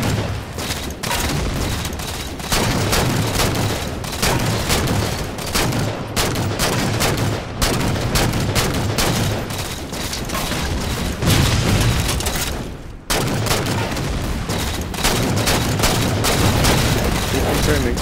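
Gunfire in the Halo Spartan Ops video game: dense, nonstop rapid bursts of automatic weapons fire with booming impacts, loud and close, briefly dropping out once before resuming, with a voice talking underneath.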